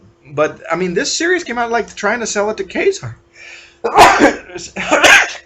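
A sharp sneeze bursts out loud and close right after a man's speech, followed by a second explosive sneeze or cough moments later.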